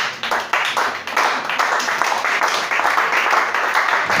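A church congregation at a Sunday worship service claps steadily and loudly in acclaim of Jesus, with dense, rhythmic applause filling the room throughout and no clear speech.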